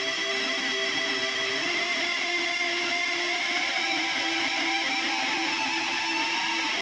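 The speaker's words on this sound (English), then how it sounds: "I have a section that it's a preset called Destruction, and it's this very wild sounding shoegaze tone from hell" Two layered guitars through a wild, harsh shoegaze distortion preset roar as a dense, sustained wall of noisy tone, steady and loud with no gaps.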